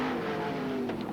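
Sprint car engines roar around the dirt track at Premier Speedway during the 1994 Australian Sprintcar Championship, a steady loud drone with a brief rising rev near the end.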